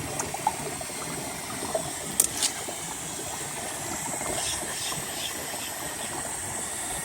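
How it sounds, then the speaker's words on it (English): Water drains out of an opened Jandy pool cartridge filter, a steady, quiet trickling rush with a few small clicks and splashes near the start. "You just want to open that up, let all that extra water out."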